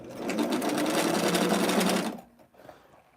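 A sewing machine stitching a pillbox hat runs in a fast, steady rhythm for about two seconds, then stops, leaving faint clicks.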